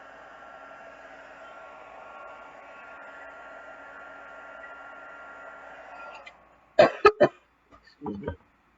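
Heat tool blowing on embossing powder over cardstock, a steady whooshing hiss for about six seconds that cuts off, followed by a person coughing several times.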